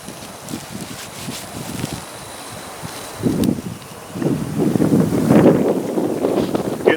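Wind blowing outdoors while a flat set for coyotes is being remade, gusting hard against the microphone as a loud buffeting rumble that builds and stays strong through the second half.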